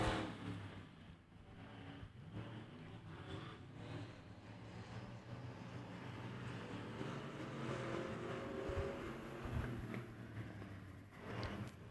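Factory stock cars racing at Tulsa Speedway, a faint, distant, continuous engine roar that swells gradually as the pack comes around the turn onto the main stretch.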